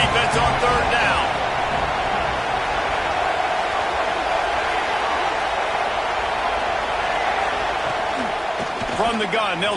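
A football stadium crowd roars and cheers behind the defense on third down. The noise is a dense, sustained wash that holds steady under a commentator's continuous play-by-play.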